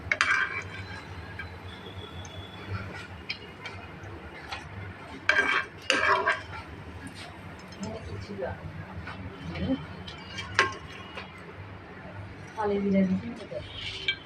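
Fried onion pakoras being lifted out of hot oil with a metal utensil, giving scattered clinks and scrapes against the pan over a steady sizzling background, with a couple of louder clatters midway.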